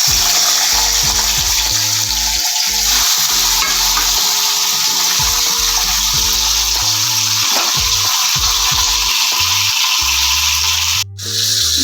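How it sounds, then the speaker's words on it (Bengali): A salted fish head fries in very hot oil in a pan, giving a loud, continuous, crackling sizzle that holds steady with only a brief dip near the end. "মাছের মাথাটা আমি এপিট ওপিট করে খুব ভালো করে ভেজে নিয়েছি"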